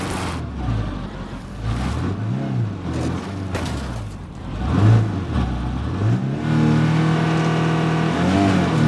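A car engine driven in State of Decay 2, steady rumbling drone with repeated rises and falls in revs as the vehicle accelerates and shifts, loud and close throughout.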